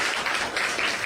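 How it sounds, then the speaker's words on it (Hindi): Brief outdoor applause from villagers at a door-to-door campaign stop in Dumada village, a short dense patter of clapping hands, moderately loud and steady for about a second. "एक बार माजरा साहब के सम्मान में तालियां बजाएं"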